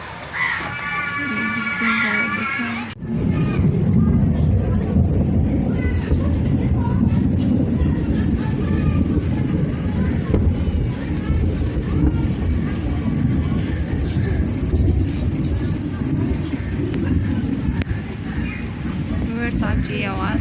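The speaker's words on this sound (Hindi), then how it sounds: "ये जो है बिजली की आवाज़ है, बहुत ज़ोर की कड़की थी।" During heavy rain in Karachi, a sudden loud crack of thunder breaks in, followed by a sustained broadband roar of downpour and rumble that stays loud and steady.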